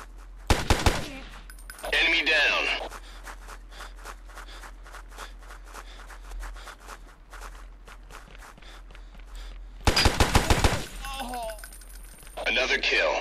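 Bursts of automatic gunfire from the tactical shooter game Tom Clancy's The Sum of All Fears, with two loud rapid volleys and softer scattered shots and footsteps between them, mixed with game voices.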